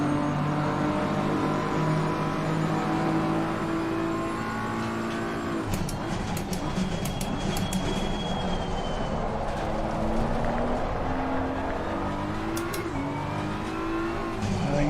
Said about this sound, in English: If you could hear the back wheels spinning up